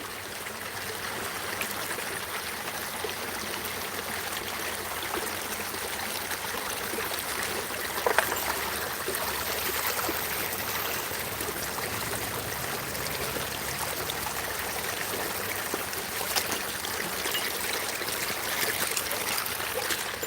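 Water flows and trickles steadily in a creek, a continuous babbling rush with small splashes, fairly close, with no voices.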